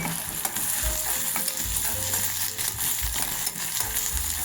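Curry leaves sizzling in hot oil for curd rice, a steady close frying hiss with a few stirring bumps and faint tones underneath.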